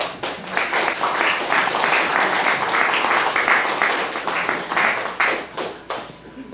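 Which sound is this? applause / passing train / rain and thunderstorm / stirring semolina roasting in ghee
applause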